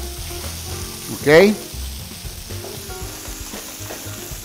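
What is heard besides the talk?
rice with chicken, green chile and onion frying in a pan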